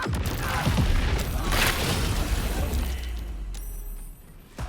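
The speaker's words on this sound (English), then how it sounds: "Krieg was completely obliterated by the explosion" Rune powder and oil barrels explode together in Baldur's Gate 3, a dense burst of booming blasts and shattering debris that fills the opening seconds, then tapers into a rumbling, crackling fade.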